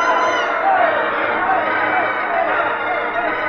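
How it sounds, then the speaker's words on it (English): A wrestling match crowd in a radio drama cheers and screams in a continuous roar, with a narrator talking over the noise. "The crowd on his feet, screaming."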